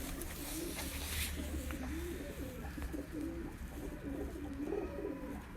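Pure breeder pigeons coo steadily in repeated low, rolling phrases, close and continuous over a faint rumble, with no voices.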